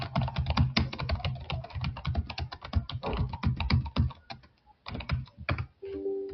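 Rapid, steady typing on a computer keyboard, dense close keystrokes with a brief pause near the end before the typing resumes, no talking.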